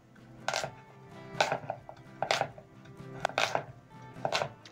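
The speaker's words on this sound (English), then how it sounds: "So I'm going to be chopping the carrots in bite-sized pieces." A knife chops carrots sharply on a cutting board, about six crisp strokes at a steady rhythm.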